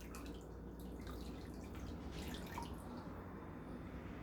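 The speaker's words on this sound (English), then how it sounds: "refill this side of the sink with more hot water and some dye fixative" Water runs steadily into a sink as it is refilled with hot water and dye fixative for tie-dye. The stream is quiet and constant, a soft splashing trickle with no voices.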